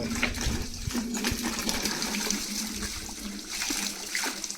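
Water gushes steadily from a well motor pump, a continuous broadband rush with a low hum beneath, close and loud throughout, with no voices.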